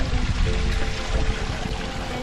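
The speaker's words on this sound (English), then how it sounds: "we're going to fill up at this nice little stream" A small stream of water along a backpacking trail flows steadily and close, with a loud continuous rushing and trickling texture throughout, no talk.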